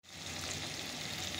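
Potatoes and tomato fry in oil after a tempering with chili, a faint, even sizzle that starts suddenly and holds steady without talk.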